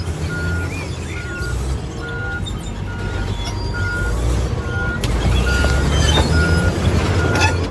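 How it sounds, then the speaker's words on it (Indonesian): Reversing alarm on a bulldozer, a regular beep-beep repeating about every half second over a low rumbling diesel engine, steady and moderately close, growing slightly louder toward the end with no talk. "yang ini ada bulldozer teman-teman"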